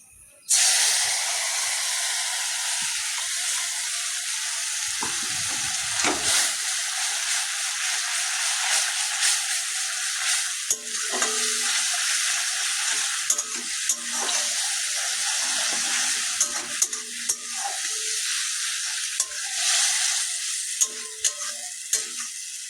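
Ground spice paste for a stuffed potol (pointed gourd) curry sizzles and hisses steadily in hot oil in a pan, a loud continuous frying noise with occasional stirring scrapes throughout.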